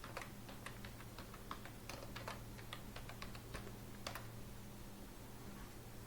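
Someone types a root password on a computer keyboard in a quiet room. Soft, irregular key clicks come in quick bursts over a low steady hum, with no talk.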